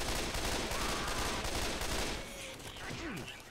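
Rapid bursts of gunfire in the game Left 4 Dead 2 crackle densely for a couple of seconds, then thin out into scattered shots amid game sound effects.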